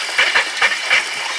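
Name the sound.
hose bibb spitting out air and water after draining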